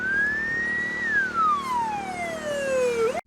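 Emergency service sirens arrive at a road crash scene, a loud wailing tone sweeping up, holding, then falling slowly before rising again, close and continuous with no talk.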